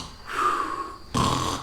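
A voice imitates snoring in two breathy, rasping bursts, the second starting abruptly after a short pause, close and fairly loud with no other talk.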